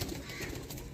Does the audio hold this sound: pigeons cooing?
yes